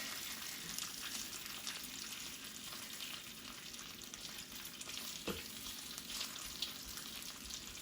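Bacon frying slowly in a pan, giving a continuous, even crackling sizzle with faint pops throughout and no talking.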